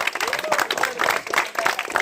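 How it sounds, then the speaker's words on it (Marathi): A crowd at a village cricket tournament prize ceremony applauds the runner-up team, with loud, continuous clapping and cheering voices mixed in throughout. "सगळ्यांनी टाळ्यांचा गजरात स्वागत,"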